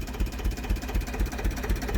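A tractor engine, an Ursus C-330M or Zetor, after harrowing a potato field in the evening, knocks steadily with a rapid, regular, close-up thudding rhythm and no voices over it.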